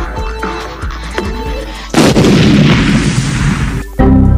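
A bomb explosion sound effect: a loud, broadband blast hits about halfway through and roars steadily for roughly two seconds, then a second burst cuts in at the end, after a stretch of lighter rhythmic thumps.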